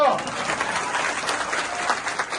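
An outdoor crowd at a political rally in Bhesan, Gujarat, claps steadily: dense, even applause that holds for the whole stretch, mixed with crowd voices.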